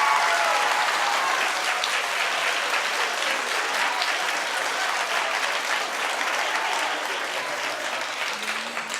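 A studio audience on a daytime talk show claps steadily and loudly throughout, a dense sustained wash of applause with no talk.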